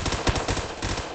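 Rapid automatic gunfire in Roblox Phantom Forces, a quick burst of evenly spaced shots firing close and loud with no talking over it.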